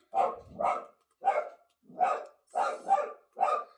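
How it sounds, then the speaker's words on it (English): A dog barking at the postman indoors, a run of about eight sharp, fairly close barks in short bursts with brief pauses between them. "I think the postman's here, that's why the dog's going for it."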